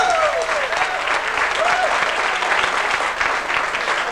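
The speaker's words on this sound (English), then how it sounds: "Give him a round of applause, folks." Steady, loud applause from a live music audience for a guitarist in a country band, continuous clapping with a few whoops and cheers rising over it.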